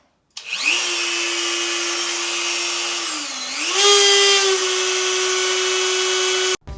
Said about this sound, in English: So I had to have my husband remove a little piece from the bottom with the Dremel.